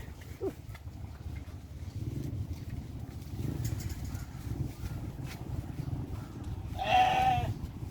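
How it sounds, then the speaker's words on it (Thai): Sheep on a farm bleat once clearly near the end, with soft chewing and shuffling noises underneath, moderately close. "แกะแล้วกินอาหารครับเวลาอร่อย"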